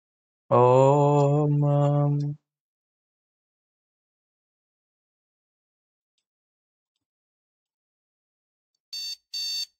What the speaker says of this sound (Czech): Budík tu mám.